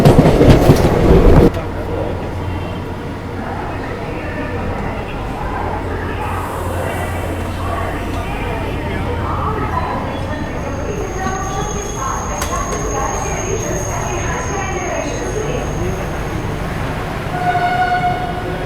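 An ICF passenger coach rolls along the track on a Prayagraj to Dadri summer special train, giving a loud, continuous rumble with rhythmic clickety-clack over the rail joints after a brief burst at the start.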